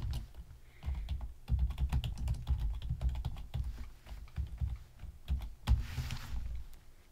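Rapid, irregular clicks of fingers typing on a computer keyboard, close and clear, with short pauses between bursts of keystrokes; no voices.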